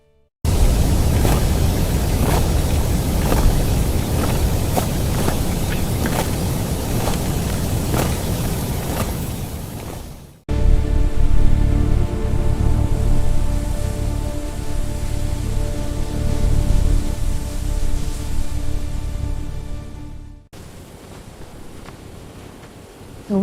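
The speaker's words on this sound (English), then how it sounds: "The storm's getting closer." A heavy rain storm hisses down steadily and loudly, with wind, in dense unbroken sheets that cut off abruptly twice and resume with a slightly different texture. No voices are heard.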